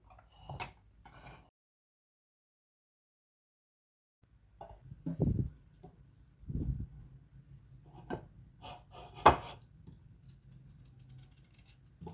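Scattered knife taps on a board as garlic is chopped, irregular and close, with a quiet gap early on before the chopping resumes.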